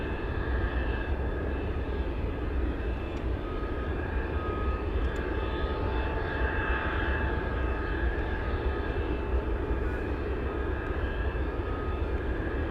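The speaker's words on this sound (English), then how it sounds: "Alaska 88 flying in from Kodiak" An Alaska Airlines Boeing 737-800 arriving from Kodiak at Anchorage on runway 15 in gusty winds gives a steady, distant jet roar with wind noise, faint and unbroken, no voices.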